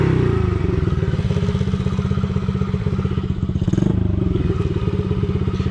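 A gas dirt bike engine idles while it warms up, giving a loud, close, steady chugging putter with a rapid even pulse and occasional light clatter.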